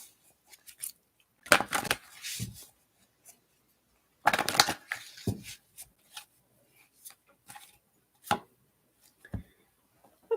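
Tarot cards being shuffled by hand nearby, two longer riffling bursts separated by quiet, then scattered soft taps and rustles of cards, with no talk.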